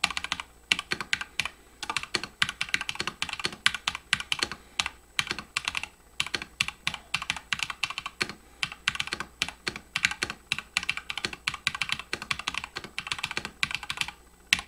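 Rapid, steady typing on a Corsair K100 computer keyboard, a dense run of close, crisp key clicks with irregular spacing and no voices, lasting throughout.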